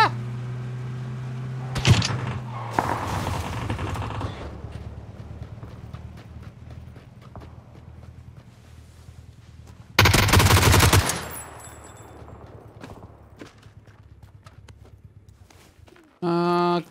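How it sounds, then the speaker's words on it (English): Gunshots in the video game PUBG: a sharp shot, then a louder burst of fire around the middle and a final short volley at the end, separated by quiet outdoor game ambience. "Someone was shooting over here."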